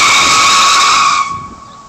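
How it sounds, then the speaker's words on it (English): A long, loud screech made as a car tire sound effect, a steady high hissing squeal that holds for about a second before quickly fading away. "I got a nice screech, though."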